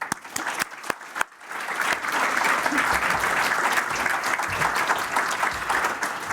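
An audience at a university awards ceremony breaks into applause, starting with a few scattered claps that swell into sustained, dense clapping throughout.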